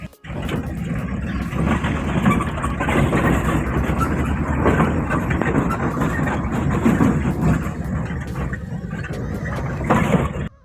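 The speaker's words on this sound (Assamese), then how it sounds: "এনেকৈ গাড়ীখন লৈ আমি ওলাই আহিলোঁ" A vehicle on a tea garden route drives off with a dense, loud engine roar and road rumble that holds steady throughout, ending abruptly.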